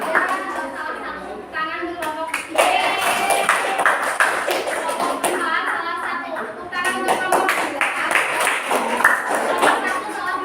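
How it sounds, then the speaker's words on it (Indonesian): A classroom group claps for fellow students during an elementary social studies microteaching lesson: a steady stream of sharp hand claps running through the whole stretch, mixed with voices chattering over it. "Tepuk tangan untuk kelompok 2."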